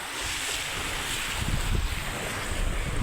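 Steady broadband rush of surf at Kalanggaman Island beach in Palompon, Leyte, with wind buffeting the microphone, continuous and fairly loud, no voices.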